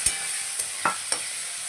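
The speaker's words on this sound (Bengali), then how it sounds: "আলুটা ভাজা ভাজা করছি," Small cubed potatoes frying in oil with panch phoron and chilli, a steady soft sizzle broken by a few brief stirring scrapes, close and without talk.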